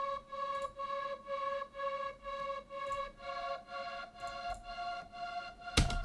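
A Nexus string pad and choir preset sustains soft, evenly pulsing chords in the background, fairly quiet and alone, with a sharp bright hit just before the end.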